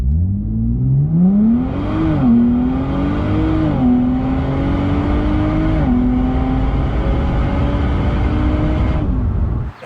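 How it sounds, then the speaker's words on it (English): A 2023 Nissan Z Performance roars under hard acceleration, its exhaust note climbing loud and close through several gear shifts with brief dips between pulls, with no voices over it. "when you're really getting on it and this car is under load and under pressure, that exhaust sounds incredible"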